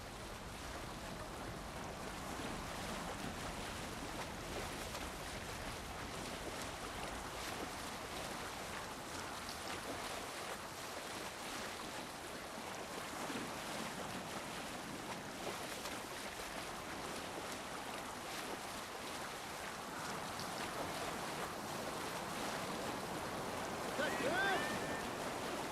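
A sailing ship moves through ocean waves in Assassin's Creed, a steady wash of surf, wind and rushing water that holds at an even level the whole time, with faint voices now and then.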